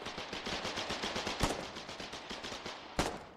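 Rapid automatic gunfire in the war game Foxhole, a steady rattling stream of close shots with two sharper, louder cracks standing out, no talking over it.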